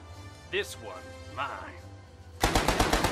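Gunfire in the tactical video game Achtung! Cthulhu Tactics: a close, loud rapid burst of shots in quick succession at the end, following a stretch of speech over a low background hum.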